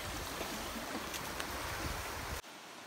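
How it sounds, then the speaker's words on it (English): A rushing creek flowing beneath a road at Badger Creek makes a steady, dense roar of water close by that cuts off abruptly near the end. "Oh, this is a rushing creek."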